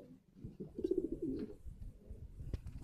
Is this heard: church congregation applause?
no